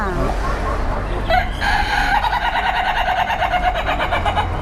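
A rooster crows loudly nearby, one long drawn-out call rising out of a busy background with other birds, at a poultry market in Ban Pong, Ratchaburi, Thailand.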